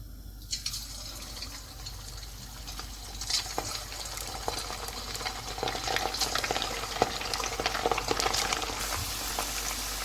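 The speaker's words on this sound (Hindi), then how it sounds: "अब इसमें हम चिकन को फ्राई कर लेंगे।" Chicken pieces hit hot oil in a pan and sizzle steadily, the crackling frying growing denser and louder as it continues, with no talking.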